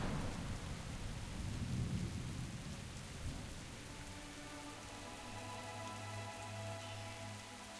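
Rain falls steadily on the landscape of the World of Warcraft video game, with a low rumble of thunder building early on. It is followed by a softer shower under faint ambient music tones.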